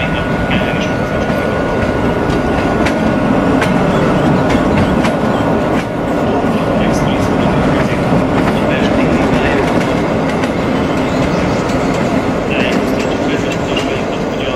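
A train in the MSTS/Open Rails train simulator game rumbles steadily and loudly throughout, with continuous rail noise and faint rhythmic clatter.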